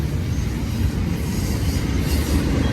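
A model train hauling piggyback cars rolls along its track, producing a loud, continuous rumbling roar with a dense low-end drone and faint wheel noise, steady throughout with no voices.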